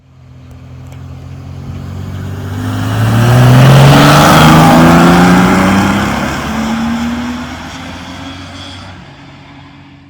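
A Land Rover Defender 2.8i 90 with a BMW M52 inline-six drives past close by, its engine note rising through the gears to a loud peak near the middle and then fading as it moves away.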